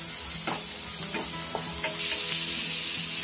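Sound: spice masala with turmeric frying in pan

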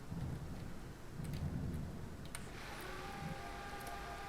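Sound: rain and thunder in Car Dealership video game

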